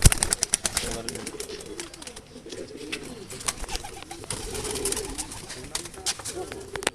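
Madras pigeons in a keeper's collection coo softly and repeatedly nearby, with a voice speaking over the calls and sharp clicks and rustles scattered among them.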